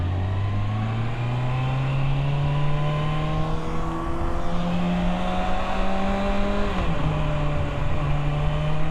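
A truck engine hums steadily while driving in bumper-to-bumper traffic, its low tonal drone slowly rising in pitch and then dropping briefly as the vehicle shifts, with road noise underneath and no talking.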